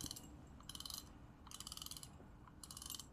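Faint, rapid mechanical clicking in three bursts as a fishing reel's drag is loosened and tightened, each a short ratcheting rattle over a low background hum.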